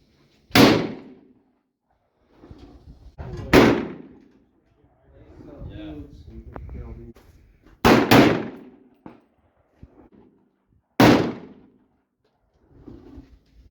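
A 7mm-08 rifle fires 120 grain VMAX hand loads at a shooting range: four sharp, loud reports spaced a few seconds apart, each with a short ringing tail, and quieter talk and handling noise between them.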